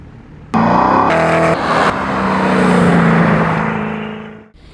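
A Koenigsegg Agera One:1 hypercar passes loudly on the Goodwood track, engine note surging in and falling away with a sustained roar and a brief shift break, then fading as it goes by.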